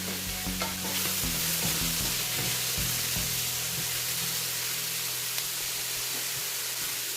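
Shrimp are added to a hot pan of stir fry noodles, setting off a loud continuous sizzle with scraping stirring strokes and clinks of the utensil against the pan, close and without talking.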